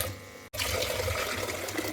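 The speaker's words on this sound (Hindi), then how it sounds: "पानी डालेंगे हम इसमें पतीली भर के" Tap water pours steadily into a cooking pot being filled to boil macaroni, a continuous close splashing rush with a brief break near the start.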